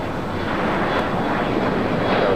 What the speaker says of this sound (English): Asiana Cargo, flight 286 coming in from Seoul, 747-400 converted.